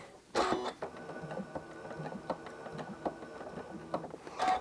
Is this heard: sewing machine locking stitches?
yes